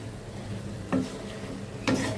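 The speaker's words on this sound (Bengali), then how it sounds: "নাড়াচাড়া দিয়ে একটু ঢেকে দিই" Leafy greens cooking in a pan being turned with a spatula, two brief scraping strokes over a low steady simmer, close and without talk.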